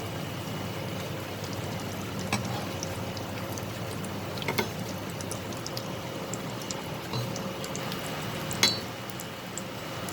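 Egg chops frying in a pan after being flipped, a steady close sizzle and crackle of hot oil with small pops, continuous throughout with no talking.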